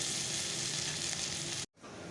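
Potatoes and bitter gourd fry together in a pan, giving a steady, close hiss of sizzling oil that cuts out abruptly near the end, then resumes more quietly.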